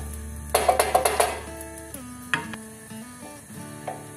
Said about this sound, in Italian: prendiamo un spicchio di aglio, gli diamo un colpo e lo buttiamo dentro, facciamo rosolare bene